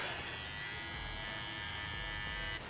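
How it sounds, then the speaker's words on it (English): An electric hair trimmer buzzes steadily and loudly up close while cutting a low drop fade on afro hair, a constant motor hum that cuts off sharply at the end. "So now I'm going to use my trimmer."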